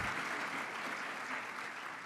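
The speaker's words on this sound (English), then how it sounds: "We can clap." A conference audience at a Bloomberg CityLab morning session in New York gives sustained applause, a thick, even roar of many hands clapping at once that holds steady and unbroken from start to finish.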